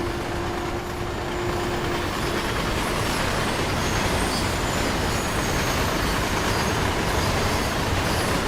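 A freight train runs in the Train Sim World 4 game on a German route, giving a loud, steady rolling rumble of wheels and wagons that lasts throughout, with no talking.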